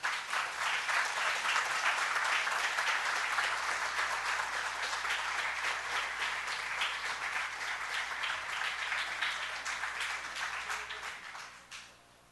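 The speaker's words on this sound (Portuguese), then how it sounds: "Denise, salva de palmas." An audience at a medal ceremony gives steady, sustained applause, dense clapping held at an even level for about eleven seconds before fading out at the end, with no voices over it.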